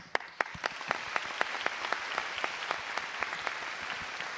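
Indoor applause at a GT World Series Nations Cup esports racing event in Tokyo, with a crowd clapping in a steady patter of sharp claps that keeps up its pace throughout.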